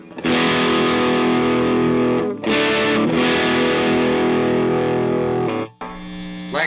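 An electric guitar played through a JHS Angry Charlie distortion pedal rings out loud, sustained, heavily driven chords, with a short break, another held chord, then a brighter final strum.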